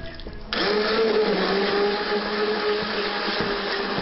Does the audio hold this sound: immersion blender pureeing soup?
yes